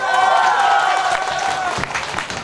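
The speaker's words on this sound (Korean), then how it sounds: "박수." Crowd applause with scattered claps fills the space at a pumba folk performance at the Yecheon World Bow Festival, fairly close and steady, with some voices mixed in.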